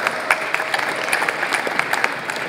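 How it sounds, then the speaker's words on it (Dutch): Brief, moderate applause from an audience at an art-and-technology event, scattered claps at a steady pace without voices. "Applaus voor Lotte."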